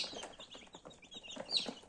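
Many small chicks cheeping and chirping together beside an incubator, a faint busy chorus of high peeps with soft clucking mixed in.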